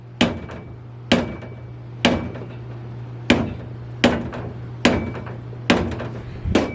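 Hammer blows strike the spanner nut on a Ford 9 inch differential, seven sharp metallic hits at roughly one-second intervals, each ringing briefly, over a steady low hum nearby.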